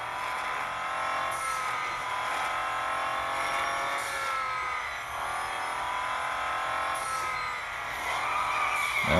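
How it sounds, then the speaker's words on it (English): A Bentley Continental GT3 race car skids in a racing game, its tires squealing in long sustained wails over a steady engine drone, loud and continuous. "Don't skid like that."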